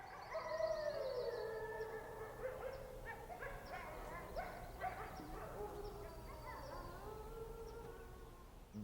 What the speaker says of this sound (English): there it was, a howling from the distant lakeshore.